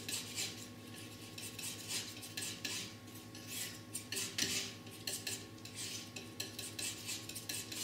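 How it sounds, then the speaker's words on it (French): A palette knife mixes white oil paint into a second colour on a palette, giving steady close scraping and smearing strokes with soft taps of the blade, continuous with no voices. "Je vais prendre du blanc, que je mélange à la deuxième couleur ici."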